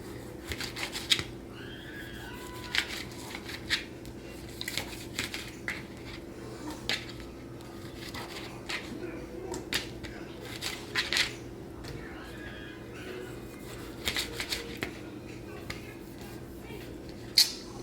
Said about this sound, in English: I'm just gonna cut it into pedacitos, put it in there.